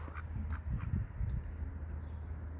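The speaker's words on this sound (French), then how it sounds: "que t'es un beau canard" A few soft quacks from a white duck nearby, over a low steady hum of background noise.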